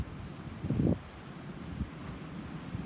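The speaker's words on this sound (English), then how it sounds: "It's windy." Steady low wind at a winter base camp rumbling and buffeting the microphone, with a brief stronger gust near the start, then a continuous moderate roar.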